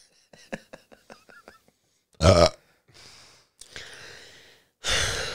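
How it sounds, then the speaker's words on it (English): Several loud, raspy burps erupt one after another, close to the microphone, after a few soft clicks and breaths. "We all burped on the mic"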